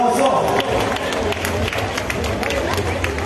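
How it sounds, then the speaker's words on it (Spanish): A fair crowd at a night concert claps continuously, dense and close, mixed with crowd chatter and a voice talking over it. "Fuerte el aplauso"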